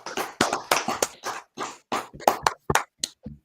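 A person claps hands several times in an irregular, loud, close rhythm, with about a dozen sharp claps and no talk between them.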